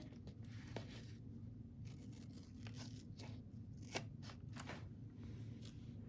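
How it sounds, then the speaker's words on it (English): Scissors snip the loose ends off a strip of craft fabric, giving a few sharp, close cuts over a steady low background hum. "flip it over and cut the ends off so that it's all even and nothing's hanging out off the end"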